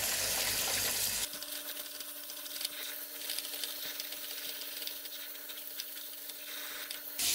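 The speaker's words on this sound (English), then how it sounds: "what I do with them is to wash them like this fast to take the excess, the kind of slippery. So I wash them." Pumpkin seeds being rinsed and rubbed by hand in running water, a steady wet swishing and trickling with faint tonal hum, close and continuous after a brief louder start.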